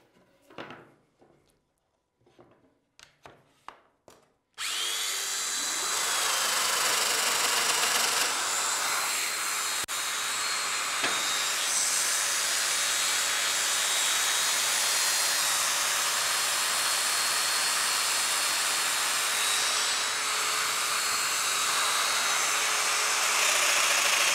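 A Festool Domino joiner set to 20 mm milling a wooden strip: a few clicks and handling knocks, then the motor starts and runs a steady, loud, continuous whine with brief cutting changes for about twenty seconds, alone without talk.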